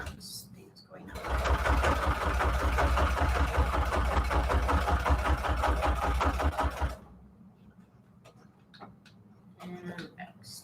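A sewing machine stitches a journal signature made from an old book, back-stitching in a fast, steady mechanical run for several seconds before stopping abruptly, with light handling noises and brief talking afterward.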